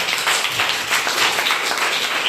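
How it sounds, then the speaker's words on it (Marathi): A short burst of applause at a Marathi TV quiz show, many hands clapping together at a steady, lively pace. "टाळ्या"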